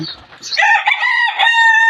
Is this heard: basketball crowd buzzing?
no